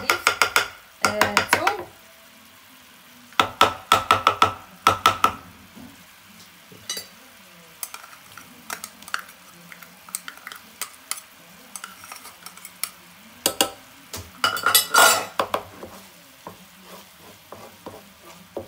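Garlic goes into a pan with shrimp and fries with a soft sizzle underneath, broken by repeated sharp utensil scrapes and clanks in bursts, with no talking.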